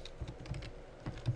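Quiet typing on a computer keyboard, a quick run of soft, uneven key clicks with no voices.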